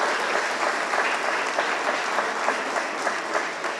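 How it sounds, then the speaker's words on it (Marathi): A crowd at a public event claps loudly and steadily for the chief justice, a thick, even wash of hands with no pause. "जोरदार टाळ्या मुख्य न्यायाधीशासाठी पण वाजवूया"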